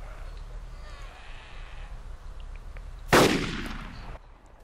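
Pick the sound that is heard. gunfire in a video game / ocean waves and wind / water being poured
gunfire in a video game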